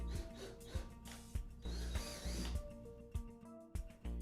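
Threads are tapped into pre-drilled holes in a metal door frame for mounting a Norton 6000 low energy door operator. A close, quiet series of metallic clicks and ratcheting knocks sits over a steady tool hum, with no talking.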